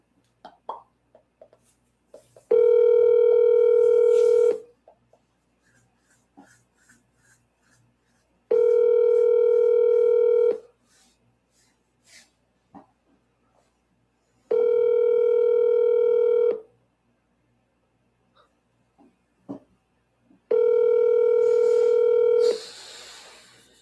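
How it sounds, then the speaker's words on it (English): Telephone call being placed: four long, steady ringback tones evenly spaced a few seconds apart, with brief faint clicks and taps between them. "Let's get Jean on the phone."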